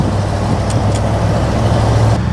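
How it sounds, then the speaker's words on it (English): An arriving car gives off a steady low engine rumble close by, continuous throughout, with no talk over it. "Sounds like a car."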